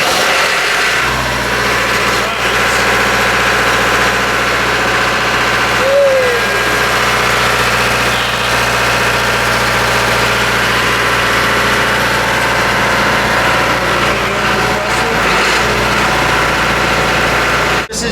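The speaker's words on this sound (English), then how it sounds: "their big generator, big dirty old Perkins. Won't start." A big old Perkins diesel generator engine runs with a loud, steady low drone and vibration, heard up close and continuous throughout.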